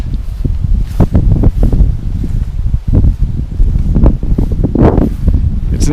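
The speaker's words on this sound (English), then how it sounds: "It's an open area and the wind is much stronger." Strong wind sweeping through long grass in an open field, loud continuous rustling and buffeting with gusty surges throughout.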